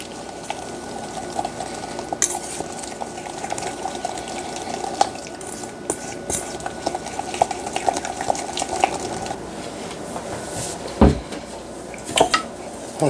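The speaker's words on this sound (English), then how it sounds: "I'm just going to keep whisking." Powdered sugar icing whisked in a bowl for a blueberry rum pound cake, steady clinking and scraping of the whisk against the dish throughout, with a couple of louder knocks near the end and no talking.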